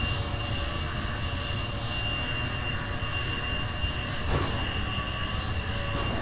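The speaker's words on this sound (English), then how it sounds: "Now let's try and land this thing" An airplane engine drones during a landing in BeamNG.drive, a steady loud roar with tonal whine held evenly for several seconds, with a brief swell near the end.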